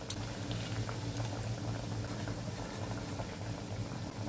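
Kothimbir vadi, coriander fritters made with bajra flour, shallow fry in hot oil with a dense, steady bubbling crackle, close and continuous, with no talking.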